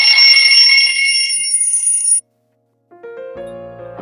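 A loud electronic mobile ringtone plays a bright, tinkling melody, cuts off abruptly, then resumes after a brief silence with lower musical notes.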